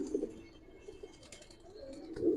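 Giribaz and Army pigeons coo close by in two low, throaty bursts, one at the start and one at the end.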